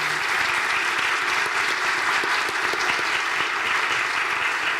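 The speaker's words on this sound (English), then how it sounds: "I want to give them applause for what they've done." A university panel audience at a health professions education day applauds the organizers. The clapping is steady, even and sustained throughout, full and close, with no break and no talk over it.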